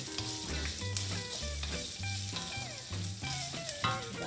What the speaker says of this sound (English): Stir for a while.